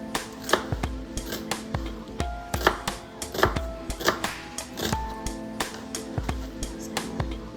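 A knife slicing onion on a cutting board, a steady run of sharp, close knocks against the board at a brisk, slightly uneven rhythm.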